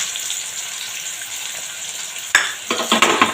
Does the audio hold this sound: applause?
no